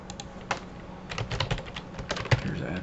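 Typing on a computer keyboard, a series of irregular, close key clicks in short bursts with brief pauses between them.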